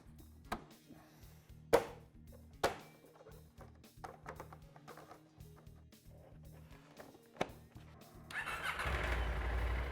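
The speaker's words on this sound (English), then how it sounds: "we'll start this bike up" A rebuilt KTM LC8C twin-cylinder motorcycle engine, as fitted to the KTM 790/890 and Husqvarna Norden 901, cranks and fires up near the end after a stretch of scattered workshop clanks and knocks, then runs loud and steady.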